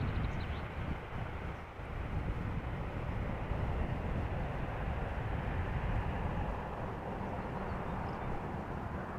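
Airbus A350 powered by Rolls-Royce Trent XWB engines at Amsterdam Schiphol Airport, a steady broadband jet roar that holds at a constant loud level throughout, with wind buffeting on the microphone.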